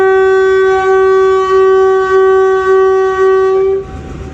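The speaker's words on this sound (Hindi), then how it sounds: "दुमाला रेलवे स्टेशन के बाद लसानी एक्सप्रेस अब किला सोबा सिंह रेलवे स्टेशन पर स्टॉप करेगी।" Lasani Express passenger train horn blaring loud and steady for nearly four seconds, a sustained harmonic blast with faint rhythmic pulses underneath, then cutting off to low rolling rumble.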